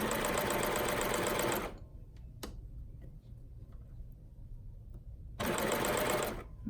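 A sewing machine stitches the side seams of fabric bottoms in two loud, steady bursts at start and end. Between the bursts is a quiet gap with a single tap.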